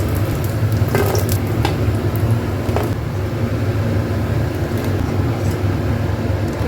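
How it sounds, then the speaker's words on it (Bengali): Lentil fritters made from matar dal fry in hot oil in a kadai, a loud, close, continuous sizzle with occasional sharper crackles and no voices. "ডালের বড়াগুলো লাল লাল করে ভাজা হয়ে গেছে"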